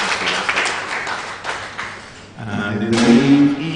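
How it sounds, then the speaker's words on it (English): Broadband crowd applause at a women's 10m air rifle para shooting final in Al Ain rises and falls over several seconds, with a voice talking over it toward the end. "Round of applause from the audience gathered here in Alain."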